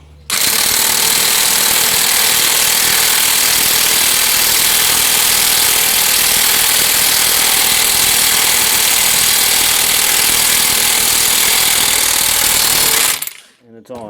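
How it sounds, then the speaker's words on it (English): An electric impact wrench hammers continuously for about thirteen seconds on the water pump of a Dodge Neon 2.0, a loud, steady, dense rattling buzz close up that stops abruptly near the end. "I will take the electric impact wrench and I'll just do it this way."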